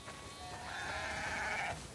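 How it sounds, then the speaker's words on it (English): Sheep bleat in The Last of Us Part II, a single drawn-out, wavering bleat lasting under two seconds, fairly close and clear over a low game ambience. "We definitely have way too many sheep."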